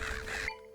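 A bird enemy in the video game Zelda: Echoes of Wisdom lets out a harsh, crow-like caw that cuts off abruptly, loud and close.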